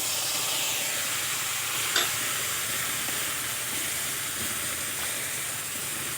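Macaroni pasta fries in a pan with soy sauce, giving a soft, steady sizzle and hiss that is fairly quiet, with one sharp stirring clink near the start.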